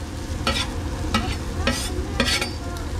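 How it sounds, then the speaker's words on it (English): Chili and garlic sizzle in a pan under a steady fizzing hiss, broken by three or four distinct bursts of stirring scrapes at close range. "Chili and garlic in."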